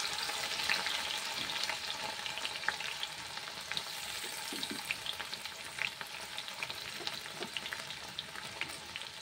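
Chopped ginger and garlic frying in oil for chilli paneer, a soft continuous crackle and sizzle with scattered pops, fairly quiet and close, no voices over it.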